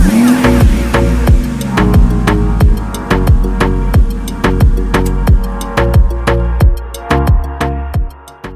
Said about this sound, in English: We're breaking loose the rear tires